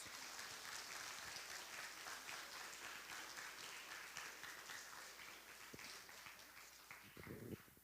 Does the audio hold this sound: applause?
yes